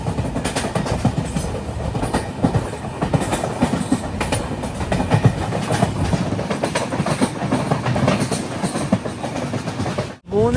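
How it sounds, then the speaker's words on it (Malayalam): The Poorna Express from Pune to Shoranur rolls along its rails, heard as a loud, continuous rumble with rhythmic clickety-clack of the wheels from aboard a sleeper-class coach, cutting out sharply at the very end. "ട്രെയിൻ ഇപ്പോൾ കാർവാർ റെയിൽവേ സ്റ്റേഷനിലേക്ക് എത്തിയിരിക്കുകയാണ്"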